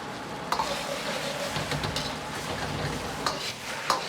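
Tofu and scallion leaf pieces are stir-fried in a thickened sauce in a wok, a steady sizzle running throughout with a few sharp spatula scrapes and clicks scattered through it, close and alone with no voices.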